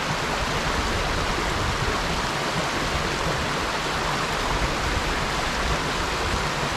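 River water rushes steadily over rocks along a forest trail, a loud, close, unbroken roar of flowing water with no voices.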